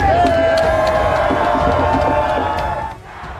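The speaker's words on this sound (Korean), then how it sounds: "악명 높은 노예 거래상 로버트 밀리건의 동상 철거에 환호성이 터집니다." A crowd cheers and shouts as the Robert Milligan statue, honouring a notorious slave trader, is pulled down; loud, sustained massed voices with whoops, fading slightly near the end.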